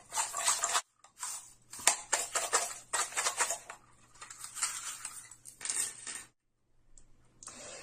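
Tarot cards being shuffled and handled close up: a series of crisp papery flicks and slaps in bursts, with brief pauses between, fairly quiet over a faint low hum.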